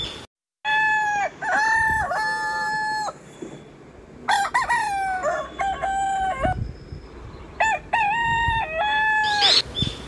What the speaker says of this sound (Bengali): মুরগিগুলো দানার জন্য সকালবেলা ডাকাডাকি শুরু করেছে